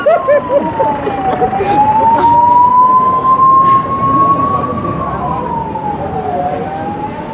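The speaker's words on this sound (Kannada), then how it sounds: "ಆಂಬುಲೆನ್ಸ್" An ambulance siren wails loudly nearby, its tone slowly rising and falling over steady traffic rumble.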